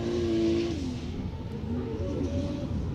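A Toyota Racing 86 race car, an S13 on Achilles tires, drives a Texas track during a qualifying run, its engine droning loud and steady with pitch shifts as it revs and slides through a corner.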